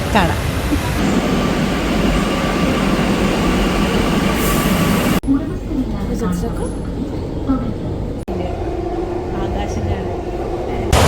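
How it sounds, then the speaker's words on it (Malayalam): Loud steady rumble of a metro train running, with a sharp cut partway as the noise drops and shifts, then continues under faint background voices. "നമ്മളിപ്പോൾ മെട്രോ ഒക്കെ ഇറങ്ങി"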